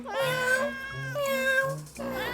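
A cat meows close up, three drawn-out, wavering cries in quick succession, fairly clear, with no voices over them.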